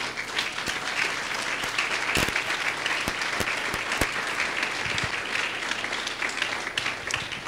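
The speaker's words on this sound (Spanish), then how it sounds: "Dele un aplauso al Señor." Applause from a church congregation fills the whole stretch, a dense steady wash of many hands clapping at even loudness, with a few sharper individual claps standing out.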